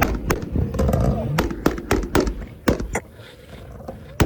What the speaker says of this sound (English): Let's hope he does a popping and banging as he exits the event.